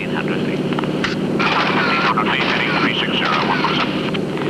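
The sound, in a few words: de Havilland Beaver aircraft flying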